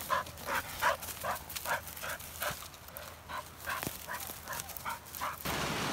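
A gun dog on a pheasant shoot gives repeated sharp barks mixed with high whimpers and yips, close and fairly loud, in an uneven rhythm for about six seconds.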